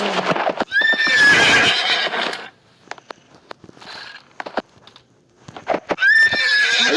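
A Roblox game horse gives a loud whinny, then its hooves clop in sparse, quieter steps, and it whinnies loudly again at the end.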